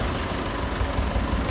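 A tractor engine idles steadily in the farming video game Farming Simulator 22, a dense, low rumbling drone that holds at even loudness throughout with no talking.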